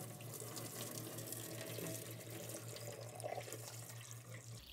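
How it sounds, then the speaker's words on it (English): Hot water pours off a pot of boiled potatoes as it is drained, a steady close splashing gush with a low hum running beneath it. "we're gonna drain this water off like this."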